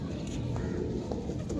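A female pigeon of a fancier's loft gives a brief, quiet coo close by, soft and low against a faint background.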